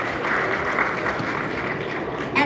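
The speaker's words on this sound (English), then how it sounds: "Please give them a warm applause." Audience at a tech expo opening ceremony in a large exhibition hall gives steady, dense applause throughout, fairly close and even in level, with no talk over it.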